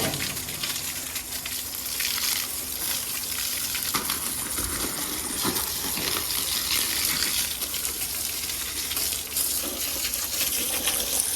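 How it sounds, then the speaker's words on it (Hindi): A water pump motor runs steadily while water gushes out in a constant loud broadband rush, sustained and close with no breaks. "मोटर चल गई और अभी पानी लगना जो है वो स्टार्ट हो चुका है"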